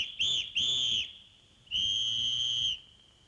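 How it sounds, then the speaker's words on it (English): A whistle is blown in three shrill blasts, two short ones close together and then a longer sustained one, loud and clear with no talking. "Mr. Bustle put the whistle to his lips."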